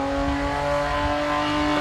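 A race car engine drones loud and close, straining at steady pitch as it grabs the next gear and bogs down, with no voices over it.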